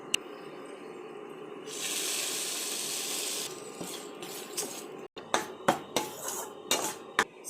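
Bread crumbs halwa with milk and sugar is stirred in a pan under a steady soft hiss that swells for a while, followed by a run of sharp spoon clinks and scrapes against the metal.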